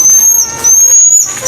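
A shrew gives a thin, high, whistle-like call, sharp and piercing like a referee's whistle, repeated in about three close, loud bursts with short gaps between them.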